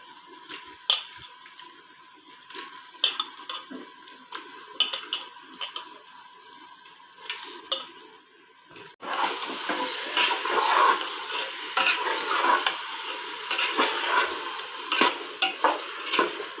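Spoon scrapes and clatters against a pressure cooker, then a loud steady sizzle of chicken and masala frying takes over, with stirring knocks continuing through it.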